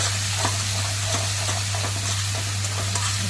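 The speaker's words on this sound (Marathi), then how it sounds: "छान मसाला परतू द्यायचा आहे तेलामध्ये" Masala spices sautéing in hot oil for urad dal give a steady, close sizzle and hiss, broken by faint scraping stirs, with a constant low hum underneath and no talking.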